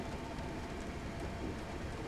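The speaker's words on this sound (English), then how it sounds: "I'm now going to shut off power to allow the train to coast" A Class 321 electric train coasting with power off at night in Train Simulator 2015, a steady broadband rumble and hiss of wheels on track with no clear beats, moderately loud and continuous.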